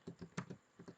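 Computer keyboard being typed on, about seven quick close clicks in an uneven rhythm, one slightly louder keystroke like the enter key, quiet and alone.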